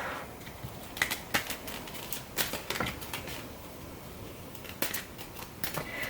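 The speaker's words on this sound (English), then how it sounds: "I'm just going to do quick shuffles." Quick crisp riffles and taps of tarot cards being shuffled, coming in short bursts with pauses between, fairly close and quiet.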